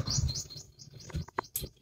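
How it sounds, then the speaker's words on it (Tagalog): Pigeons newly arrived from Sariaya, Quezon chirp and tweet in short, quick bursts, close and fairly faint, with scattered higher calls and a few soft rustles between them; no one speaks. "Sana makompleto ibon natin mga kalapatids."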